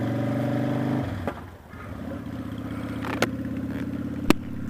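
A Honda Shadow motorcycle engine idles steadily, then drops briefly before pulling away and accelerating through gears, with a couple of sharp clicks or clunks along the way; close and fairly loud, no talking.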